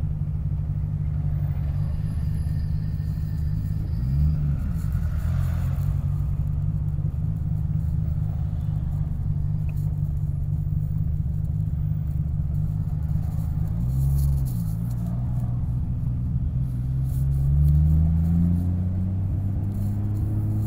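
Nissan Skyline GT-R R34 engine idling and creeping in congested Tokyo traffic, a steady low rumble heard from inside the car with a couple of brief revs and a gentle rise near the end, no talking.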